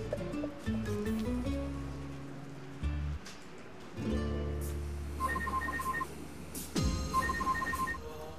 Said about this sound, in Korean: 전화 또 왔다.